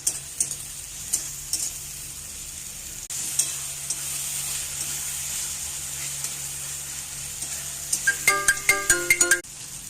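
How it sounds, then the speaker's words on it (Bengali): Ginger-garlic paste frying with chopped onion and tomato in a pan gives a steady close sizzle, with a sharp run of clinking, stirring knocks near the end. "আর 2 মিনিট মতো আদা রসুনটা ভালো করে কষিয়ে নিয়েছি"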